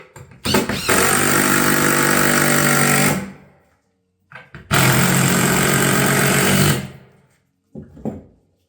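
A power tool fastens ring shank nails or exterior grade screws into filled tile battens running up the hip of a barrel vault roof, in two loud sustained bursts of about three seconds each, then a short final burst.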